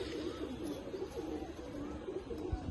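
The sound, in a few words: giribaz pigeons cooing at a loft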